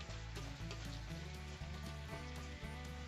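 Tomatoes tipped into a pan of sizzling ground bata masala for a chicken curry, giving a continuous, loud frying hiss with a low steady hum and occasional stirring knocks throughout.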